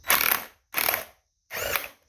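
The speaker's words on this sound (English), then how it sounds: "I'm going to see if it'll loosen up with this hammer drill." A hammer drill fitted to a nut on a Mercury inline four outboard fires three loud rattling bursts, close up, separated by short pauses.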